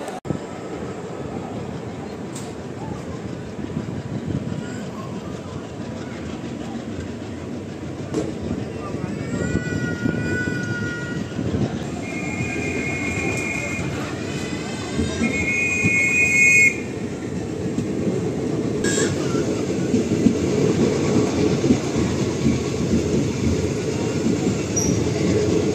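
Amritha Express train rolling on the rails between Madurai and Ernakulam, heading toward Palakkad Road: a steady, loud rumble of wheels and carriages throughout, with brief high tonal squeals or horn-like tones partway through.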